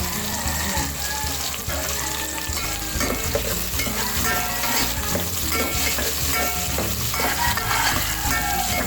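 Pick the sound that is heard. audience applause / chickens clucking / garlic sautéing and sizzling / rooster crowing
garlic sautéing and sizzling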